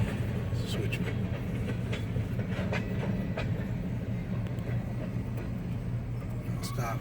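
A train rolls past close by with a continuous heavy rumble and scattered metallic clanks and squeals from the cars on the rails, loud and steady throughout with no talking.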